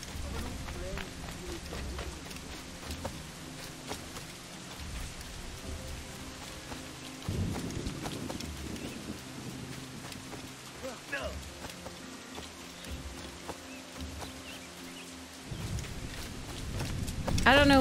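Rain falls steadily during a brief storm in the pirate game Assassin's Creed IV: Black Flag. The hiss stays constant, with a few heavier low rumbles swelling midway and again near the end, and occasional soft voices underneath.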